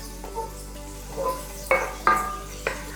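Minced onions sauté in a pan, a soft sizzle broken by a few clinks and scrapes of a utensil stirring against the cookware, close and fairly loud.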